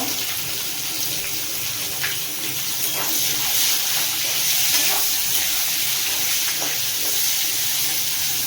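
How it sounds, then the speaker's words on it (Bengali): Chopped onion fries in hot oil in a rush of loud, hissing sizzle that swells slightly midway and stays close and continuous without talk. "পেঁয়াজটা ভালো করে ভেজে নেব"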